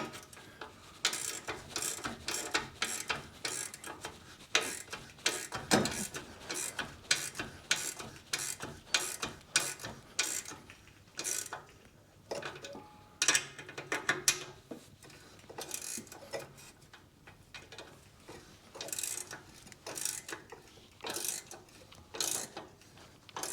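A ratchet tightens the rear exhaust silencer bolts on a 2012 Ford Fiesta 1.2 Zetec petrol: repeated runs of sharp ratchet clicks up close, spaced by brief pauses, with no speech.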